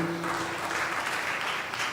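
A church congregation claps for the choir, a steady wash of applause from many hands, even and moderately loud throughout with no voices over it.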